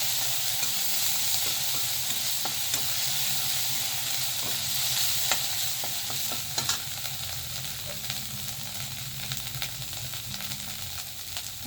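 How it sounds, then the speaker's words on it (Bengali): Spices being stirred in a frying pan, with loud, continuous sizzling and hissing and repeated scraping of a spatula. "মশলাটা আমি দিয়ে দেবো, একটু নাড়াচাড়া করে নেবো।"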